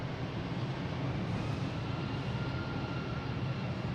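An Iberia airliner bound for Madrid taking off from runway 4 Right at Boston Logan, its engines producing a dense, steady roar that holds at constant loudness throughout.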